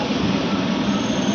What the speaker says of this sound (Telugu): వచ్చేసింది విజయవాడ మాచర్ల మెమో సిరిపురంకి